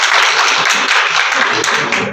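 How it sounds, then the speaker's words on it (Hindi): An audience applauds steadily at a journalist award ceremony, dense close clapping filling the whole moment with no one speaking. "इनके लिए बहुत जोरदार तालियां चाहूंगा आप सबसे।"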